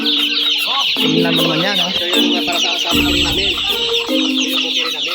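Many chickens cluck and squawk at once, loud and close, a busy overlapping chorus with a voice briefly speaking over it.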